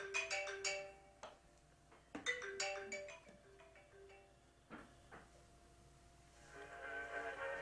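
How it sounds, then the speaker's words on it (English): A mobile phone ringtone plays at low volume, a repeating electronic melody with short pauses, in a home kitchen after baking a hot milk cake. "my phone's ringing"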